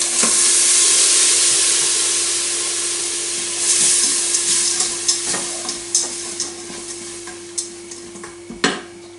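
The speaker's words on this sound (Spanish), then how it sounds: "Cebolla y las setas. La vamos a sofreír ahí." Onion and mushrooms sauté in oil inside a GM G Deluxe pot, a steady bright sizzle that slowly fades, broken in the second half by sharp clinks and scrapes of a utensil stirring against the pot.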